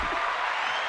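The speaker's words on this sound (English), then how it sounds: "let me give you a round of applause" A brief applause sound effect plays as dense, steady clapping from a crowd, loud and continuous for under a second.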